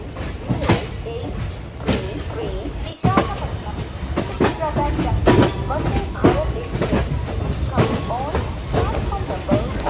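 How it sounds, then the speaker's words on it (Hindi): A train runs on track in an Indian train driving video game, producing continuous rumbling with rhythmic clattering wheel beats over rail joints, loud and steady throughout. "कितना मस्त आ रहा है इसका ट्रैक साउंड्स, सुन लीजिए।"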